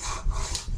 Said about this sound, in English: I'll sand in that arc